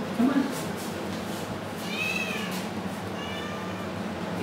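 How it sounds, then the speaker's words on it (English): Cats meowing on first meeting a dog during a cat-compatibility test, a few thin mews rising over steady room noise and soft background voices. "Okay, so here's Nelson meeting cats for the first time in his cat test."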